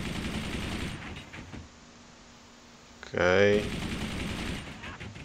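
Cannon weapons fire in the artillery strategy game Forts as one loud, sharp blast burst lasting about half a second, preceded by a brief spoken word and steady game background.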